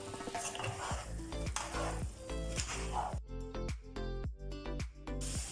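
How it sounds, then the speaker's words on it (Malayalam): Chicken roast is stirred in a hot pan with a metal spoon. Repeated scraping, clinking strokes fall in an uneven rhythm over a constant close sizzle. "ഇതൊന്ന് ഇളക്കി കൊടുക്കാം"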